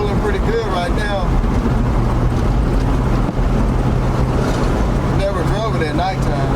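A 1979 Chevy G20 custom van on the road, its engine and road noise droning steadily and loudly throughout, with wind buffeting the microphone and a voice talking over it.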